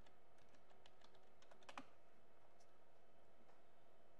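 Someone types the ipconfig command on a computer keyboard, a short quiet burst of key clicks with a couple of louder taps in the middle and faint stray keystrokes after.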